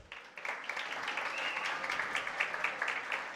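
Steady crowd applause in an auditorium at a regional oratory competition final in Veraguas, Panama, following a prize announcement, a dense, even wash of many clapping hands held at moderate volume throughout.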